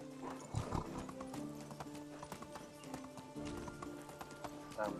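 Horse hooves clip-clop steadily in the medieval survival game Medieval Dynasty, a near, continuous rhythmic trot heard over background game music.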